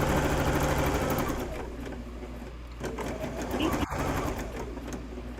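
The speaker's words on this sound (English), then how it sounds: "And Brenda, what machine are you on tonight" A sewing machine hums and whirs in a steady run of stitching, with faint background noise and one sharp click partway through.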